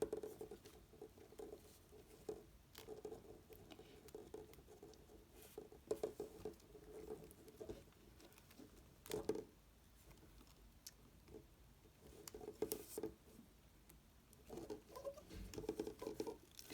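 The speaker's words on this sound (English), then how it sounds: "this is rubbing on the table and it's making a squeaky sound" Rainbow loom bands rub against a tabletop, producing faint, irregular squeaks and scratchy patters that come in short bursts over a quiet background, with no talking.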